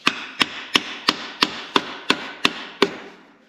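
Nine evenly spaced, sharp hammer strikes ring out close by at a brisk, steady pace, a small hammer working on a 1993 Peterbilt cabover truck, fading slightly at the end.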